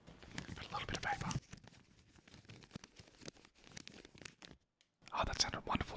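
Paper is crinkled and torn close to the microphone for ASMR in bursts of crisp rustling and ripping, with a short silent gap, while soft whispering runs underneath.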